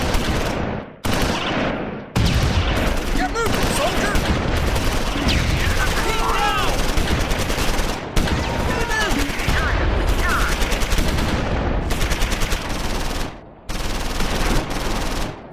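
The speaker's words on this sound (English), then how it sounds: "Second Platoon's medium machine gun adds flanking fire." Medium machine gun bursts from the Close Combat 4 Battle of the Bulge game at Losheim, rapid loud rattling volleys repeating in dense strings with brief gaps between bursts, mixed with other gunfire close and continuous.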